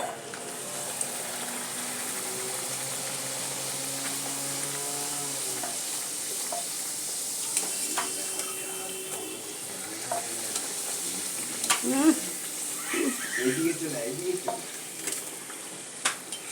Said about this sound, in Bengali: এবার আমি আপনাদেরকে ভেজে দেখাই